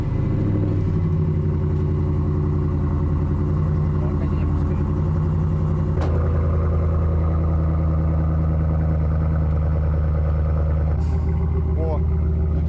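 An engine turns over and settles into a steady, loud running rumble, with a sharp click partway through and people talking over it.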